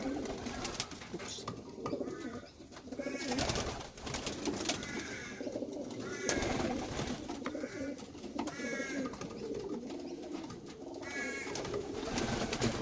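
Pigeons, including young birds, coo repeatedly at close range, with soft rolling calls returning every couple of seconds over a steady background murmur.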